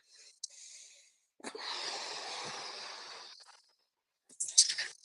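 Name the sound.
group heavy breathing exercise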